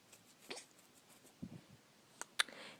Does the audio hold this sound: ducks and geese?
no